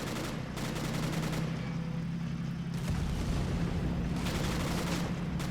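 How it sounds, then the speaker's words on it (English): Explosions and gunfire in a WWII video game battle in Italy between German Fallschirmjäger and Allied forces, with heavy booming blasts and rapid bursts of shots over a constant low rumble. "Big explosion back there."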